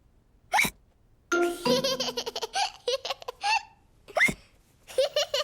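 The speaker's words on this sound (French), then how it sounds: "Georges a bu son jus de fruits trop vite et maintenant, il a le hoquet" The cartoon pig George hiccups after gulping juice too fast, giving several short, sharp voiced hiccups in quick succession, mixed with a childlike giggling voice.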